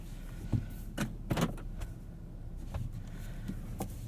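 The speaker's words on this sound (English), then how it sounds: "You do get automatic windows up and down for all 4 windows" Power windows on a 2020 Toyota Camry TRD V6 cycling up and down inside the cabin: a low motor hum with several short clicks and thumps as the glass starts and stops, no talking.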